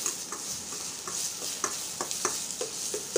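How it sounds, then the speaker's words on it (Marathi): Onion, green chillies and tomato sizzle gently on low heat while being stirred, a soft steady frying hiss with light scraping taps of the spatula, alone and fairly quiet. "आता कांदे, टमाटर आणि हिरव्या मिरच्या सुद्धा मंद आचेवर छान अशा परतून घ्यायच्या आहेत।"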